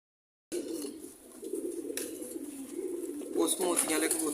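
Sialkoti pigeons, including a pearl-eyed cock paired with a hen, coo in a steady low murmur. A hiss of background noise sits beneath, with a busier stretch toward the end.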